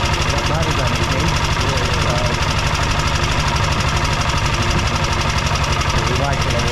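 A BSA motorcycle engine runs hard and loud, driving an alternator to power a large towable camping fridge, with a steady close drone and knocking throughout while someone speaks over it.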